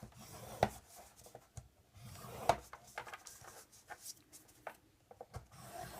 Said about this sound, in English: gently slide the score tool through the grooves